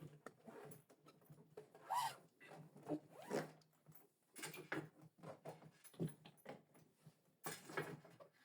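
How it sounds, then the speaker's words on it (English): Zipper on a hard shell suitcase from a Neo Blue three-piece luggage set being pulled open in several close, raspy bursts with short pauses between strokes, and no talking. "And also the zip."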